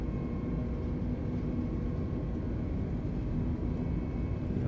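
Airbus A320neo jet engines spooling to takeoff thrust in the MSFS 2020 flight simulator, Edelweiss Air departing Zurich, give a steady, loud, dense roar that holds evenly throughout with no voices.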